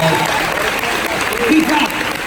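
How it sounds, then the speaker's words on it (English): During a hypnotist's stage show at Florida Tech, a crowd applauds loudly and continuously, with a voice speaking over the clapping throughout. "Give them another huge round of applause."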